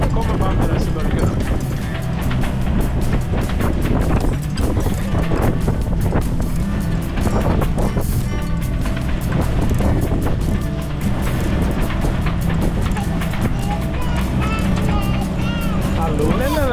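Boat pushing through big waves in strong wind, a steady roar of wind buffeting and rushing water across the whole stretch, with people talking over it.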